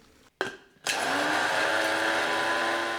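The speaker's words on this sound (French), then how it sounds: "je vais tout simplement mixer quelques petites tranches de fraises lyophilisées. Je les mets dans un petit mixeur et c'est parti." A small blender grinds freeze-dried strawberry slices into powder: a couple of short bumps and a pause, then the motor roars up into a steady, loud, continuous whir that holds to the end.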